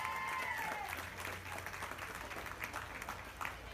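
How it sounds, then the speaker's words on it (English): Crowd applause at a youth swine market show after the champion Yorkshire hog is named, steady clapping throughout with a faint whistle near the start and some background chatter. "Let's give that young lady a nice round of applause."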